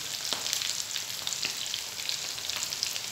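Potatoes sizzle steadily as they fry in a pan, a continuous close crackle with small pops scattered throughout and no talking.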